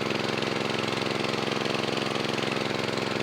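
Small engine-driven water pump running steadily to drain a pond so fish can be caught, a close, loud, rhythmic chugging that stays even throughout with no talking.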